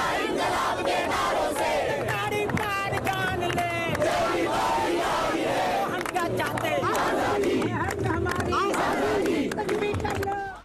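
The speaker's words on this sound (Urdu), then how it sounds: "آر ایس ایس کی لٹھ بردار ریلیاں آزادی مانگنے والوں کو گولی مارنے کے نعرے بلند کرنے لگی ہیں" A large protest crowd in India, where demonstrations against a contested law have spread as far as Mumbai, chants slogans. It is a loud, dense wall of shouting voices that continues throughout.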